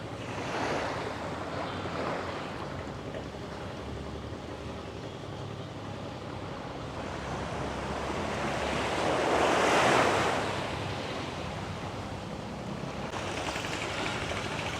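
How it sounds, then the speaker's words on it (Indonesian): Ocean waves wash steadily onto a beach on Taliabu island, a broad continuous surf roar that swells to a louder break midway, with wind buffeting the microphone throughout and no voices. "Coba kita lihat pantainya guys."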